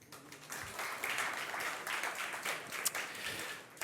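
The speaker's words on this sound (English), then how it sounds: "Can we applaud again?" Audience applause at a startup pitch competition: a few seconds of moderate, steady clapping from a crowd, fairly faint and with no talk over it.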